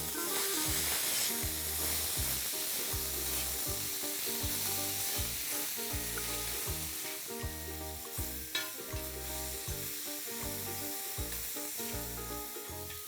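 Two chopped medium tomatoes cook in a pan for an egg tawa masala, with a steady, dense sizzle and frying noise running throughout, close and unbroken, and no voices.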